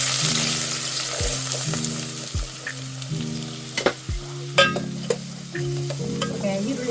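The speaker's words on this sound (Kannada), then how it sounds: "ಇವಾಗ ಎಣ್ಣೆ ಕಾದಿದೆ, ಈರುಳ್ಳಿ ಹಾಕೊಳ್ಳೋಣ" Onions frying in hot oil and ghee for egg rice, a bright bubbling sizzle close by, broken by repeated spoon scrapes and knocks against the pan and a low rhythmic background hum.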